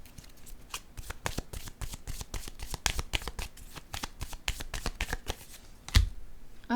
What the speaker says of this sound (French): Est-ce que je devrais piger une autre carte?